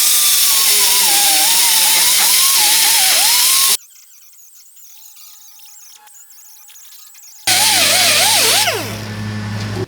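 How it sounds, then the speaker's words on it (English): A power grinder strips paint from a cracked truck cab down to bare metal, a loud close whine with wavering pitch that stops abruptly, leaves a quiet gap, then starts again with rising squeals. "first we're going to grind off all the paint and get it down to bare metal"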